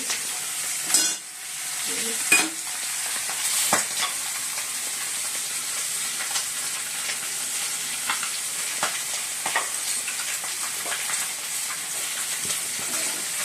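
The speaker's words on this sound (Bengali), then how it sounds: "মাছের মাথাগুলো ভাজছি।" Fish heads fry in hot oil with a steady hissing sizzle up close, and a few louder scrapes and clatters of stirring come early before the frying settles into an even crackle.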